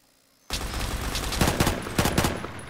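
Gunfire crackles in the Roblox shooter Phantom Forces, a sudden dense burst of automatic shots with several sharper peaks over about two seconds, fairly close and without talk.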